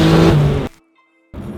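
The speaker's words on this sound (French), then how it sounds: "tu mets la 2, tu mets pied plancher et voilà." A BMW E30 Turbo accelerating hard in second gear, a loud close engine roar that cuts off abruptly, then a brief silence before the engine noise returns.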